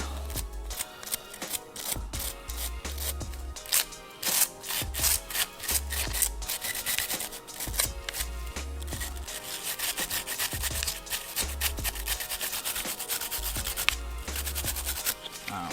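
A cloth rubbing and wiping the feed ramp of a Shield Plus pistol, with quiet, close, repetitive scrubbing strokes in a steady back-and-forth rhythm.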